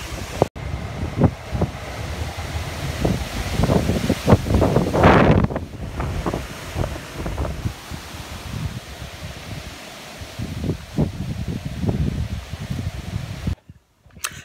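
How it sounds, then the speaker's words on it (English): Strong wind from Storm Ali buffets the microphone in heavy, gusting bursts, with a particularly loud surge partway through before it briefly drops out near the end. "it's blinking windy, but it's not too bad"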